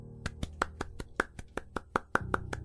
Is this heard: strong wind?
no